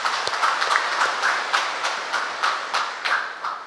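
A church congregation at Christmas Mass applauds in a steady, sustained round of clapping that fills the space at moderate loudness, with no one speaking over it.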